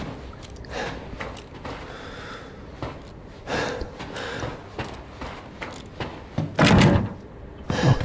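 Locked doors get tried in Resident Evil Village, with a series of dull thunks and rattles as handles are yanked and doors shudder in their frames, irregular and fairly close, one heavier bang near the end.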